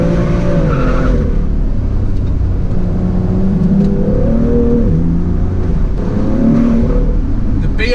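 A BMW M2 is driven hard through corners, its engine note rising and falling through gear changes with a steady loud roar and tire noise, close and continuous throughout, with no talk.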